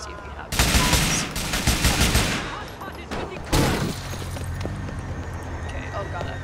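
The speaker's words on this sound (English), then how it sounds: "And then they'll start shooting you" Enemies fire at the player in the GTA 4 video game, with two dense bursts of rapid gunfire, the first lasting about two seconds, followed by lingering game ambience.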